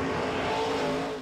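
Race car on a dirt track roaring past at close range, a loud sustained engine drone that holds steady and then fades briefly at the end.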